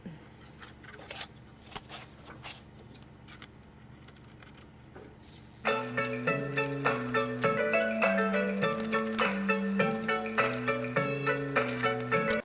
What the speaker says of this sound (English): Now I'm going to cut the hearts out.